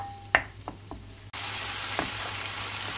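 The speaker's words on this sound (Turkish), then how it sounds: "tavuk göğsümüzü tavamıza alıyoruz ve soteleme işlemimize" A few soft taps and clatters, then a sudden loud, steady sizzle as chicken breast pieces hit a hot frying pan to sauté.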